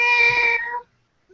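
A house cat gives one clear, drawn-out meow lasting just under a second, close and loud, then goes quiet.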